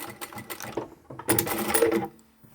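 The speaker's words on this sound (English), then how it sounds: "I like to backstitch here as well" A sewing machine backstitches a small fabric coin pouch made from scraps, running in short mechanical bursts that end in a longer, louder stitching run before stopping.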